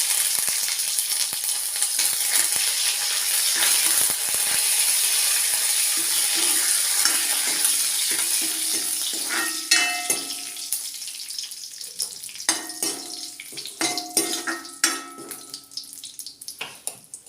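Curry leaves and a chopped dried red chilli hit hot coconut oil with mustard seeds for tomato chutney, giving a loud steady sizzle that breaks into sharper crackles and pops toward the end.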